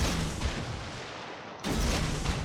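Heavy warship gun salvos in World of Warships boom out as a deep, broad roar, with one thunderous volley followed by a brief lull and then a second loud blast.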